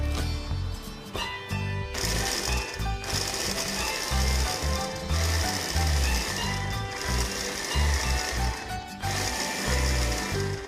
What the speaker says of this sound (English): So just roughly chop them into pieces and process in the food processor.